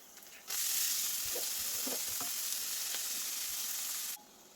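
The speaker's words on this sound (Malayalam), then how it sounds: "ഈ ഉള്ളിയും ഇലയൊക്കെ ഒന്ന് വഴന്ന് വരട്ടെ." Onion and chopped drumstick leaves sautéing in a pan with turmeric and salt for a Kerala thalipu curry, a steady loud sizzle and frying hiss that runs for several seconds, with a few faint stirring clinks, no talk.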